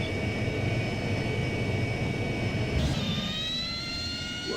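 Simulated AV-8B Harrier II+ jet engine in flight in Flight Simulator X, a steady loud whine with layered tonal harmonics over broad rushing noise, shifting pitch partway through as thrust changes.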